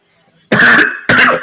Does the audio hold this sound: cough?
yes